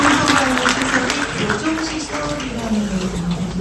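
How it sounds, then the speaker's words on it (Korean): An audience at a Korean book talk concert applauds, a dense, steady patter of clapping with voices and a tonal murmur mixed underneath throughout. "박수 주시죠."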